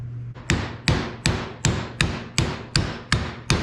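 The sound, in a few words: hammering a bearing race driver into a tractor wheel hub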